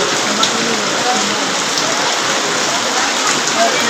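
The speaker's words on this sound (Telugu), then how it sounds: "మొత్తం వర్షం చూడండి. మార్కెట్లోకి వెళ్ళి బయటికి వెళ్ళే ఛాన్స్ లేదు. ఫుల్ వర్షం." Heavy rain pours down steadily over the Karimnagar vegetable market, a dense, loud, unbroken hiss of drops with faint background sounds beneath.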